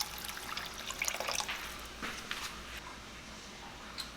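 Water pours into a cooking pan already holding coconut milk, a soft, steady splashing trickle with a few brief drips, fairly faint and close, with no voices.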